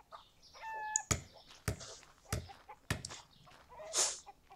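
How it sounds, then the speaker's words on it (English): Chickens clucking and squawking in The Plague Doctor of Wippra, with sharp bursts of sound spaced through the moment and brief higher bird calls between them, fairly close and clear. "Chickens."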